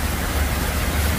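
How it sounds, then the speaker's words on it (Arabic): Heavy thunderstorm rain pours down in Dubai, a dense, loud, unbroken hiss of rainfall close by with no pauses. "دبي تشهد عاصفة مطيرة رعدية غزيرة"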